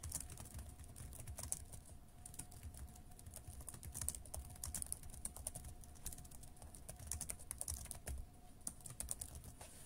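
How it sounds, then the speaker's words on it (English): Rapid, steady typing on a computer keyboard while entering a Minecraft server command, continuous close clicking with no talk. "I'm just going to type it all in"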